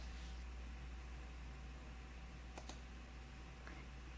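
A mouse clicks the Save button in Dynamics 365 Customer Insights software: two quick, faint clicks close together over a steady background hiss.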